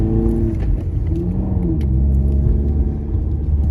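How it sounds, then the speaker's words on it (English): A manual car's engine hums with a loud, steady low rumble while upshifting gears, its pitch sliding as the revs change, with no talk over it. "But yeah, I'm gonna upshift."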